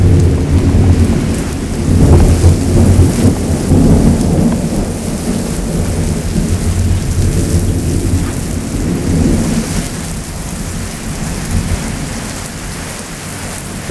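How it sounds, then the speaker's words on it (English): A heavy thunderstorm, with dense rain pouring down onto surfaces and deep, rolling thunder rumbling throughout. The sound is loud and continuous, with no voices. "it's pouring"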